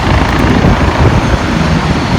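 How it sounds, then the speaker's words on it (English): A helicopter flies over New York City on a clear day, its steady low rumble and rotor drone filling the scene loudly and continuously, with no talking over it. "The helicopters will go off and go down the Statue of Liberty."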